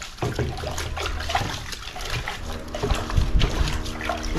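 Garden pond filters are rinsed in pond water, with irregular splashing, sloshing and dribbling close by and some scrubbing and handling noises mixed in.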